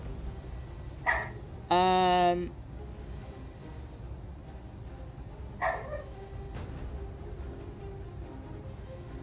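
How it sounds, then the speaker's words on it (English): A pet dog barks a few times indoors at middle distance. One sharp bark is followed by a longer yelping bark and another bark a few seconds later, over a quiet room hum with someone speaking briefly. "sorry about the dog. She's just barking."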